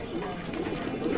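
Pigeons cooing at a weekly pigeon market, soft low repeated coos close by amid faint background murmur.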